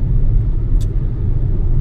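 Inside a BYD Atto 1 driving on the road, a steady low rumble of road and tyre noise hums continuously, with a faint brief tick partway through and no talking.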